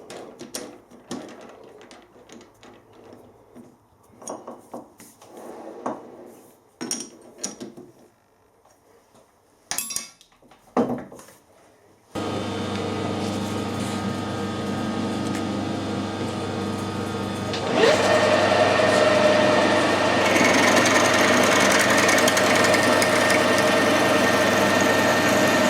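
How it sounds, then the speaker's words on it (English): A lathe drills out a worm gear to 6.8 mm, starting midway with a steady, loud machine drone that grows denser and harsher partway through, preceded by scattered clinks and handling knocks of setting up, with no talk. "I need to mount that in the lathe and drill the worm out."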